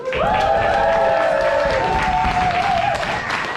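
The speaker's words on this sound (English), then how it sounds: "come to me with your cheers and your claps and your stamping of the feet" An audience of people over forty cheers, claps and stamps their feet on a countdown cue, a loud dense roar with a sustained sung or shouted tone over steady clapping.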